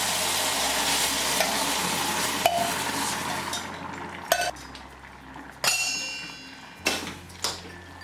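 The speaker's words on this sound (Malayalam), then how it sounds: "ഉപ്പും ചേർത്ത് ഇതൊന്ന് ഇളക്കി കൊടുക്കാം" Potato curry with salt is stirred in a pan over a steady frying sizzle, with several sharp clinks of a spoon against the metal pan.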